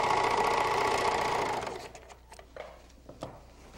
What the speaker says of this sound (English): let the machine take care of it, and it'll overcast for you